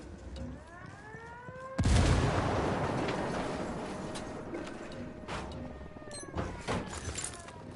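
A frag grenade in the tactical shooter Ghost Recon Wildlands bursts with a loud, sudden boom, and a long rumbling tail fades slowly. Sharp gunshot cracks follow, with faint game sounds before the blast.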